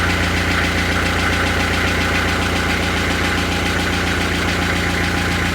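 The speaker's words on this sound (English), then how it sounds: "No oil pressure, lots of rattling." A narrowboat engine rattles and knocks with no oil pressure, giving a loud, dense, continuous mechanical clatter that holds steady throughout with no voices.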